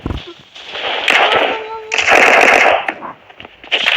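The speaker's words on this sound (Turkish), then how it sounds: "Taramalı silah." Rapid bursts of machine gun fire from a video game come in two dense volleys, close and loud, with scattered shots and game noise between them.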